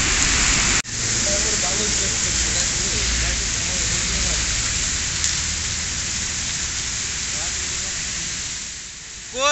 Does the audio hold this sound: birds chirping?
no